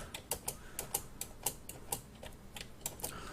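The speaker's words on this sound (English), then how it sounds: "I also apologize for the sound of the keyboard" Computer keyboard keys clicking in uneven bursts during a Minecraft play session, sharp close taps at a moderate, irregular typing pace with no talk.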